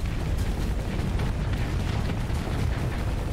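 Torpedo blasts from the space combat game Starsector, a dense continuous rumble of overlapping explosions with heavy low-end booms, loud and sustained throughout with no talking.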